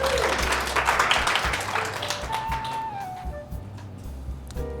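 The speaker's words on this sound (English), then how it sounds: "So give yourselves a round of applause." An audience at a book-writing workshop giving itself a round of applause, a loud crowd of clapping that gradually thins and fades, with a few voices and cheers mixed in.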